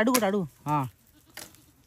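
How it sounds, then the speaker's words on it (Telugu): Goats bleating near a babul tree in dry summer, two loud close wavering bleats in quick succession followed by a fainter third cry. "ఈ ఆకైతే మస్తు ఇష్టంగా తింటాయి అనమాట ఈ మేకలు"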